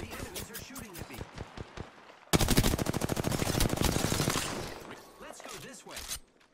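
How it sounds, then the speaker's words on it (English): Enemy gunfire in the battle royale video game Apex Legends: scattered shots, then a loud sustained automatic burst lasting a couple of seconds that tapers off, followed by a few more sporadic rounds. "The enemies are shooting at me."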